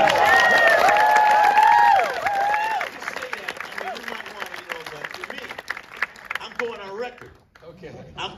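Concert-film audience at a festival Q&A screening breaks into applause and cheering, dense clapping at first that thins out and fades over several seconds, with tonal music or voices ringing over the start.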